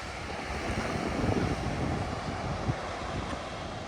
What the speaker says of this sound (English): Pretty wild ocean.